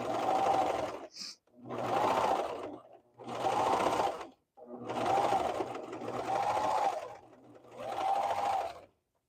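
Industrial sewing machine stitching in six steady runs of several seconds each, separated by brief pauses, close and fairly loud with a whirring hum.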